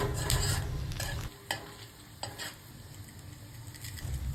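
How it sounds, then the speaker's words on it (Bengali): Whole spices for tempering, including bay leaves, cinnamon, dried red chilies, cardamom and black peppercorns, sizzle close up in hot oil, with a few spoon stirs and clinks against the pan and no voices. "এরপর তেলে সম্বার দেওয়ার জন্য নিয়ে নিলাম গরম মশলা, তেজপাতা, দারচিনি, কটা শুকনো লঙ্কা, এলাচ ও গোলমরিচ"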